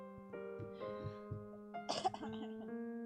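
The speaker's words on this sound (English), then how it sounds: "So sorry for coughing." A few coughs and throat clearings sound close by over a steady musical tone, with one louder, harsher cough near the end.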